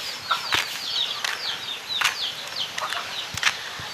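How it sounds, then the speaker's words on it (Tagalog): Chickens cluck and chirp in short, scattered calls around the yard in the late afternoon, with a few sharp knocks and rustles mixed in. "Ang dami mga manok."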